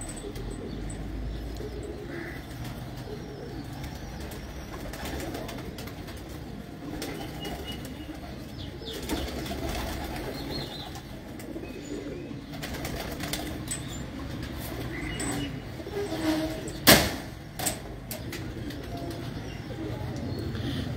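Pigeons in a loft coo softly beneath a constant rustling background, with occasional bursts of wing flapping and one sharp flutter near the end.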